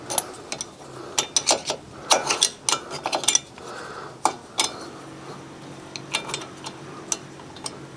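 A 12mm spanner working pins on a crash-damaged Fiat 500, giving sharp metallic clicks and clanks in irregular bursts, close up and alone.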